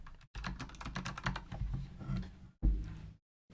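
Computer keyboard typing clatters in fast, steady runs of close keystrokes, pausing briefly, then resuming for a short final burst, with no talking.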